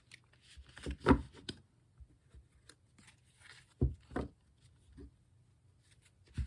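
A deck of tarot cards shuffled by hand, giving a few soft, irregular slaps and riffles spaced through a quiet room, close to the listener and without speech.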